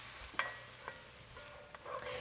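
Food browns in a pan on the stove for a hotdish, a faint steady sizzle with a few light stirring scrapes and clicks spaced through it, quiet and close with no talking.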